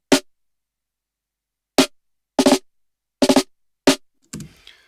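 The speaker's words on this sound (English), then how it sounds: "So the snare now sounds like this." Processed snare drum hits, short and clean, with ghost notes and rim shots at nearly the same volume: a single hit, a pause, then clustered pairs and triplets of strokes ending in a brief decaying tail.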